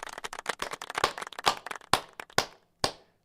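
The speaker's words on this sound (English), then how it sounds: "can we just get a round of applause that Miss Kirsten, my wonderful girlfriend," A few people clap in a short, close burst during a live trading stream. The claps come fast at first, then slow to scattered single claps before stopping.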